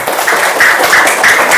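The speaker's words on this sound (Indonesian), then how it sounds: "Tepuk tangan bagi semuanya." Primary school classroom of children applauding together, a loud, brisk burst of clapping from many hands close by, with no speech over it.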